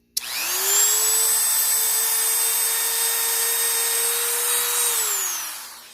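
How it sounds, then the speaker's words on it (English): A handheld Dremel rotary tool grinds high-carbon farm steel, its motor spinning up into a loud, steady high whine that holds for several seconds before winding down, with no voices. "I'm just using a Dremel because it's all I have access to right now"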